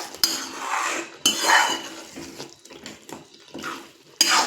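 A spoon scrapes and clanks in a pan, stirring baingan bharta with kasuri methi and garam masala, in several sharp, close strokes with short pauses between them.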